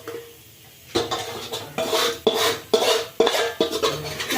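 After a quiet moment, a metal spoon repeatedly scrapes and clanks against a pan and plate in a home kitchen as food is moved onto the plate. The sharp, rhythmic knocks come about every half second, close and clear.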